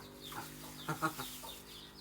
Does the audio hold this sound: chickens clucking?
yes